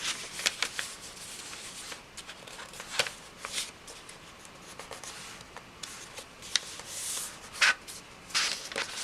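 Paper cover for an A5 Hobonichi Techo notebook being folded and creased by hand, with close crinkly rustles and sharp scraping swipes coming in intermittent bursts over a quiet background.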